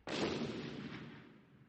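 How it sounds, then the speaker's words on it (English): A single explosion from excavation blasting near a river hits with a sudden sharp onset, then a broad roaring rumble slowly fades over about a second and a half, loud and alone with no voices. "Then I heard an explosion."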